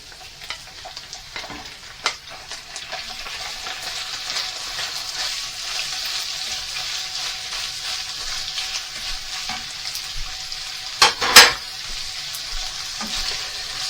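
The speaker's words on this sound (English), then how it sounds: "Now we're going to fry it for around about 5 minutes, or at least until the rabbit is cooked and just start to brown over" Rabbit pieces frying in a pan for a one-pan rabbit and chorizo dish, a continuous close sizzle with scattered pops and a couple of louder stirring clatters near the end, no voices.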